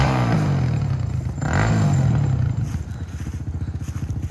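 A Suzuki LTZ 400 ATV revs and sputters close by, then settles into an uneven, rapidly pulsing idle with a rattly, clattering character.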